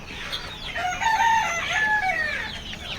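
A country rooster crows close by among young chicks on a village poultry farm, one drawn-out call rising and wavering over a couple of seconds, with soft clucking around it.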